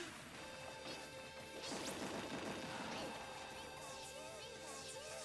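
Pikachu lands up smash attacks in Super Smash Bros. Ultimate during a tournament match. The game's crunchy hit impacts and swooshes cluster in the middle, quiet and dense over a steady background wash.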